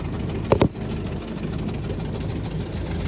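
A 1921 Ford Model T pickup engine, throttled down, idles with a steady low rumble close by, and a couple of brief knocks come near the start.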